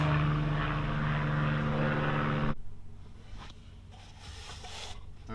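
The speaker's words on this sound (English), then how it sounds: "the planes are flying over" Airplanes pass overhead with a loud, broad roaring drone that drops off abruptly partway through, leaving a fainter rumble with soft shifting noise behind it.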